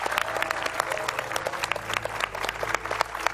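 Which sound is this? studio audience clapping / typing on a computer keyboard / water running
studio audience clapping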